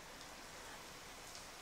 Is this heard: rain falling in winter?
yes